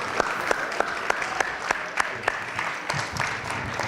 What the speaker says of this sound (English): So can you please join me in a round of applause for Dion Clark and his team?